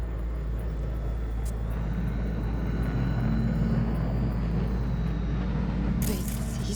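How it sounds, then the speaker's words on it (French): A combat drone flying in the video game Cyberpunk 2077 gives a steady, loud engine drone and hum that holds throughout, with a brief burst of hiss near the end. "Drone de combat."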